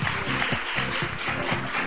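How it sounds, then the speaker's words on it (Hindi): A studio audience claps on a Pakistani morning talk show, a steady dense wash of applause that fills the clip at moderate loudness with no talk over it. "अरे बहुत सारी तालियां।"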